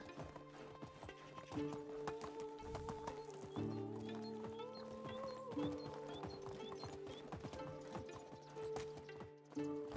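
Donkey hooves clop in a steady walking cadence in Medieval Dynasty, close and clear, layered with creaking, ratcheting mechanical sounds and a few sustained tonal notes in the background.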